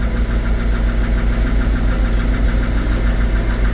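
Peugeot 207cc engine idling steadily after a blown ECU, a loud continuous low rumble with a faint rhythmic knock and vibration throughout, no voices.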